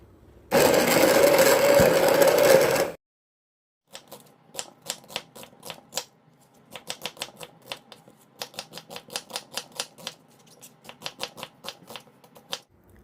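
A blender grinding onion with red chili pepper for water kimchi, a loud dense whir for about three seconds, then a run of sharp rapid clicks and taps, close and unaccompanied by speech.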